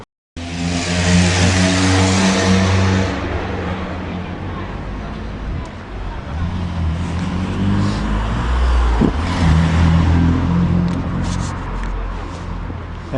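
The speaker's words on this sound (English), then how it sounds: "And buses are yellow in here, as you can see, the local buses" Yellow local buses and cars pass on a street in a Hungarian town, with a loud engine rumble up close at first, then ongoing traffic noise and a passing vehicle swelling again near the end.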